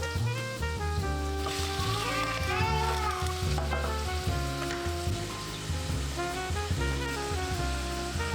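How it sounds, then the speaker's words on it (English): Cubed beef sears in butter in a pan, giving a continuous crackling sizzle, with soft music playing over the frying. "I'm cubing some beef and searing it in butter until it develops a nice crust"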